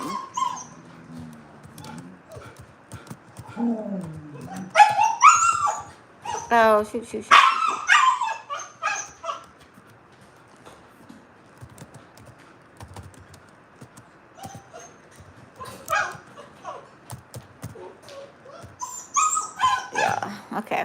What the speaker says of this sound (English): this is that dog that was crying